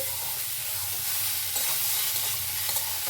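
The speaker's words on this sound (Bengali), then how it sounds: "এই সবজি এইভাবে আমি একটু নাড়াচাড়া করে নেব।" Papaya and potato curry frying in a pan while being stirred, a loud continuous sizzle with scraping stir strokes close up and no talking.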